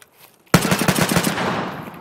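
Automatic gunfire in the shooter Escape From Tarkov, a loud burst of rapid rounds that starts abruptly after a near-silent moment, then a fading echo.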